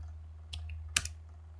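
Two crisp computer keyboard key presses, a quick Ctrl+S shortcut, sound close and clear over a steady low hum, spaced about half a second apart, with no one talking.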